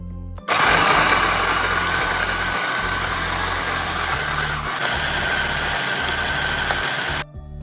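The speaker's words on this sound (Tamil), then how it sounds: "இதோட கொஞ்சம் தண்ணி விட்டு நல்லா அரைச்சி எடுக்க போகிறேன்" Loud, steady whirring of a mixer grinder grinding spice paste with a little water, running continuously for several seconds, close by, then stopping abruptly.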